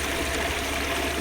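Water gurgles and rushes steadily through a venturi filter on a koi pond, mixing air into the flow; a continuous close, even wash with no pauses.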